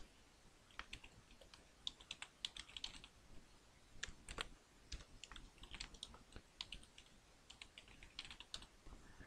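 Close, fairly quiet typing on a computer keyboard as a database privilege command for a Nextcloud install is entered, with rapid irregular bursts of key clicks and brief pauses, no talking.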